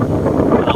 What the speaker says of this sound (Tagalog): Elisi ni kay kusog ang hangin